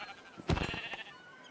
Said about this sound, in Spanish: Sí, ovejas.